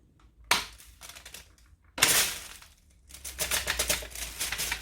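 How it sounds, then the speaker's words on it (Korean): Sharp plastic clicks and clacks come from the dust bin lid of a Dyson V10 cordless vacuum as it opens, with two distinct snaps followed by a run of quicker rattling taps. "이렇게 이렇게 뚜껑이 열립니다"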